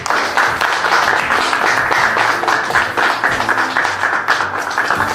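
Applause for the hero at a medal ceremony with a president presenting the medal, dense, continuous clapping from a large crowd, loud and sustained without breaks.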